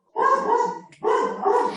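Dogs across a canal bark twice in quick succession, each bark loud and full with a short gap between, close to the listener and with no talking.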